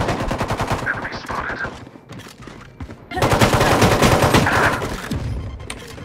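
Rapid automatic gunfire in the shooter game Valorant, loud and close, with dense bursts of shots, a short lull, then another sustained burst.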